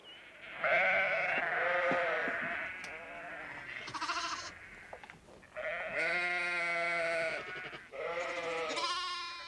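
Sheep bleat in long, quavering cries, several overlapping calls in succession with short gaps between, fairly close and clear.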